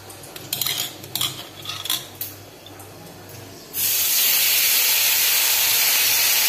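Five-spice seeds hit hot oil in a kadai for a potato dish, starting with a few clinks of utensils before a loud, steady sizzle and hiss rises abruptly and holds to the end.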